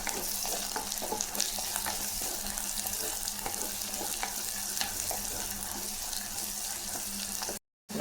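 Curry leaves crackle and sizzle in hot oil while being stirred, a steady frying hiss with scattered pops and scraping, cutting out abruptly near the end.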